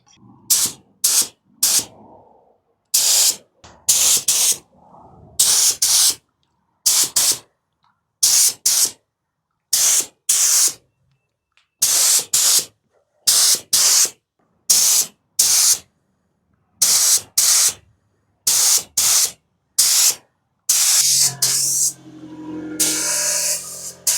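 Repeated bursts of paint spray gun hissing while painting a 1969 Ford F100, short on-off pulls with brief gaps, close and loud, ending in a longer continuous spray.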